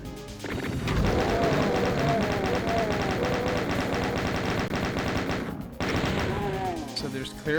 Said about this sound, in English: So there's clearly still more chain gunners in here